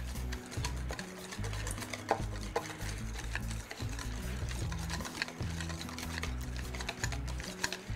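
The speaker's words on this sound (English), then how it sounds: "And then you basically just mix it all up together." Herbs and ingredients stirred together in a bowl, a fast, continuous run of close clicking and scraping strokes with no voice over it.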